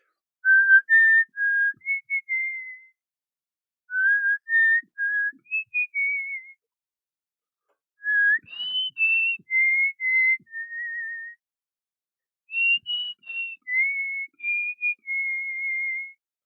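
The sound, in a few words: person whistling a birthday song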